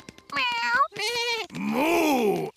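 Cartoon cat meowing, likely a voice imitating it, in a Peppa Pig episode: two short meows followed by a longer drawn-out one, close and clear with no talk over them.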